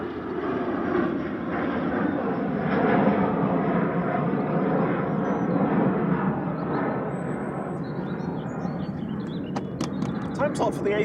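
A Loganair ERJ 145 regional jet bound for Aberdeen rolls and rotates on takeoff at Manchester Airport, its steady engine roar filling the air throughout, with a voice speaking over it.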